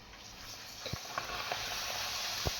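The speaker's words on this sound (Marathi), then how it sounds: "ही पापड आता हे आपल्या घरचे पापड आहेत मी दाखवते तुम्हाला तळून आता" Homemade papad frying in hot oil, a steady bright sizzle and hiss with a few soft pops and crackles scattered through, close and continuous, with no talking.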